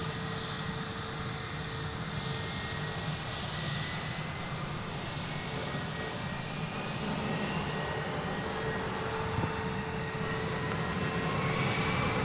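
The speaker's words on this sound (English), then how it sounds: "Here goes flight 1947 off to San Diego." An American Airlines jet on its takeoff roll from runway 36 right at Dallas/Fort Worth airport, a steady, broad engine roar heard from a distance that holds constant throughout with no voices.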